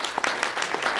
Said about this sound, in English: let's give Steve a big round of applause.